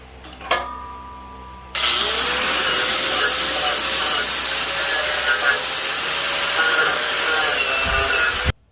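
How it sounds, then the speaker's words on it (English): A small wire brush scrubs steel tube ends ahead of TIG welding on a blacksmith's quenching tank build, a loud, steady, close-up scratching rasp that runs unbroken for about seven seconds after a brief knock. "I'm going to use this brush to reach into all these places that my heavy duty wire smithing brush couldn't reach"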